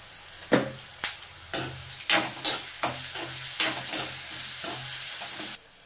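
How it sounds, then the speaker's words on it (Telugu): Onions and garlic fry in hot oil with turmeric and salt for a banana flower curry, a steady close sizzle broken by repeated scraping stirs of a spoon in the pan. "ఇప్పుడు నేను ఉల్లిపాయలు, తెల్లుల్లిపాయలు వేసాను. ఇది కొంచెం వేగాక అప్పుడు అరటి పువ్వు వేసుకుందాం."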